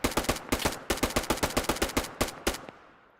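Rapid automatic gunfire in the shooter game Operation Harsh Doorstop: about eighteen loud, close shots in quick uneven bursts with short gaps, ending in a fading echo.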